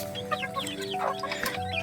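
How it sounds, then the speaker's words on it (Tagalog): Hens cluck in a chicken coop, a close, busy chorus of overlapping clucks and short calls over a steady low background hum. "Para mangitlog sila dyan kasi marami pong inahin na naghahanap na ng kanilang itlogan."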